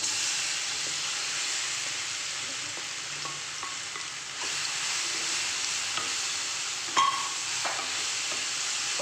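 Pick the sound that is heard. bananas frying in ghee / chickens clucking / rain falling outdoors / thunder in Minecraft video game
bananas frying in ghee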